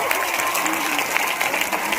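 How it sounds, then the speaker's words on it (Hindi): A crowd claps steadily at a seminar in a hall, dense applause filling the room from start to finish, loud and close. "इन सब के लिए एक बार जोरदार ताली हो जाए दोस्तों"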